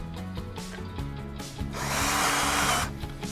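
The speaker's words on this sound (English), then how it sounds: "We're now ready to install the screws on the bottom side." A power drill drives screws into the brackets of a vinyl stair railing: a buzzing motor whine starts and stops in short bursts, then runs in one louder, longer spell near the end. No one speaks.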